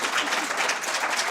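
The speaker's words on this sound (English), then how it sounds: "A round of applause please for them." A conference audience at a social enterprise pitch event applauds the judges, a short, dense burst of clapping at steady volume.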